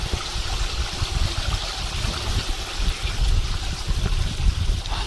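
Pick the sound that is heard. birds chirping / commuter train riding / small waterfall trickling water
small waterfall trickling water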